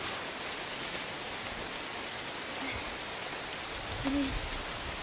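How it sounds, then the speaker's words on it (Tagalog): Heavy rain pours down outdoors as a dense, steady hiss filling the whole clip at an even loudness, with a faint brief sound near the end. "nakita nyo po na sobrang lakas ng ulan po"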